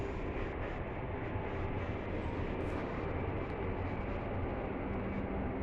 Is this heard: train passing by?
yes